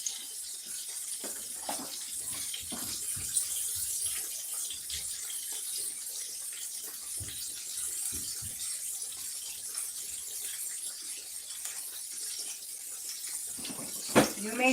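A kitchen sink tap runs water in a steady hissing stream, with faint clinks and splashes of dishes being rinsed and a louder clatter near the end.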